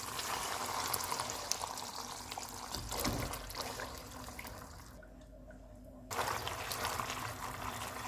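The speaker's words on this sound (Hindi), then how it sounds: "इसमें कॉर्नफ्लोर वाला मिक्सचर डालेंगे और थिक होने तक पकाएंगे।" Cornflour mixture pours into a pan of chilli garlic sauce, a close, steady liquid trickle and splash that breaks off briefly near the end and then resumes.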